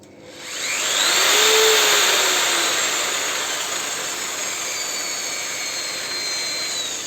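A Parkside PFMR 1600 B2 electric paddle mixer spins up at a raised speed setting with a gradual soft start. Its motor whine climbs over about a second, then settles into a steady, close-up hum with no talking.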